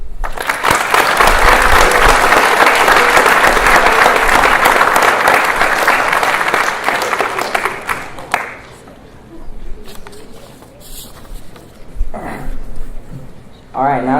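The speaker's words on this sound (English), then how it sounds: "And another round of applause." Audience at the Troup High School National Honor Society induction breaks into loud sustained applause for about eight seconds, then it dies away into scattered claps, murmurs and a voice.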